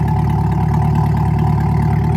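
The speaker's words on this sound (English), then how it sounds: "You can definitely can hear the exhaust." A C8 Corvette Z06 idles with a steady, low exhaust rumble, even and unbroken, heard up close with no talking.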